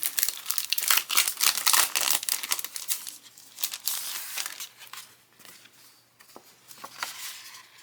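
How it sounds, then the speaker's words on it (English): Faux wax seal sticker sheets being pulled from a plastic pack, giving dense, close crinkling and rustling of plastic that runs throughout, busiest at the start and thinning out toward the end. "Let me take these out of the pack."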